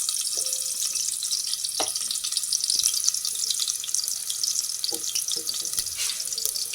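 Sliced onions frying in hot oil for a drumstick lentil stew, a steady soft sizzle and crackle with a few scattered utensil taps, alone without talk.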